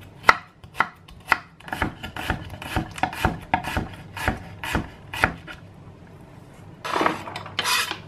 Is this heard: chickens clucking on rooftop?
no